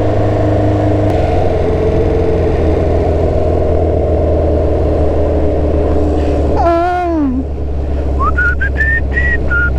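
A Honda CB 500 Four café racer motorcycle engine hums at a steady idle, loud and close, while whistled or sung melodic notes rise and fall over it partway through.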